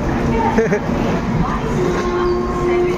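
A train at a railway station sends out a dense, loud rumble with faint tonal squeals, heard under a nearby voice and surrounding station crowd noise.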